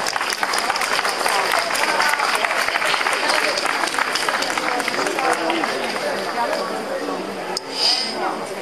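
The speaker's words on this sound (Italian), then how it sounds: "Un applauso a Laura." A crowd at an outdoor rally in front of the town hall in Viterbo applauds a speaker named Laura. The clapping is steady and dense and starts to thin near the end, with murmuring voices mixed in.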